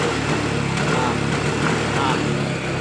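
A Yamaha Mio M3 scooter with an engine fault, sputtering and misfiring when the throttle is opened, a loud, close, rough buzzing drone that holds without clear stalling.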